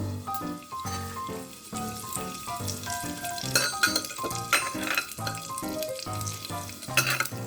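Mustard and cumin seeds spluttering and crackling in hot oil, a steady busy sizzle with quick pops, close by and fairly loud, with no voices.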